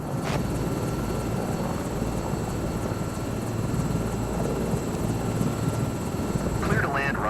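Aircraft in Microsoft Flight Simulator 2024, a steady loud engine drone with a rotor-like hum throughout, with voices speaking over it near the start and end.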